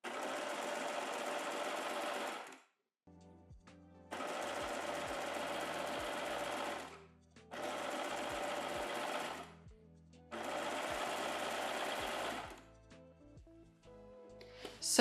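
A sewing machine stitches swimwear elastic onto fabric in four steady, even bursts of several seconds each, with short quiet gaps and faint clicks between runs.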